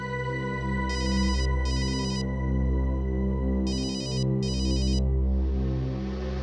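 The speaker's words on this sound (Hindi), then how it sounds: "किसका फोन है" A phone ringtone chirps in two pairs of short electronic bursts over a low, steady musical background, loud and close.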